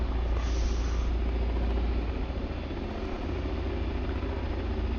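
Chinook helicopter hovering as it lifts a hooked-up cargo container pod into the air, a steady loud rotor and turbine roar with deep low thudding that holds constant throughout, with no talk.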